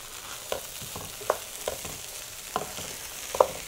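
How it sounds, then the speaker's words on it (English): Cooked red beans tipped into a pan of sautéing onions for red beans and rice, a sizzle and frying hiss with several soft stirring scrapes and clacks, close and clear. "So we're going to add 4 cups of cooked beans"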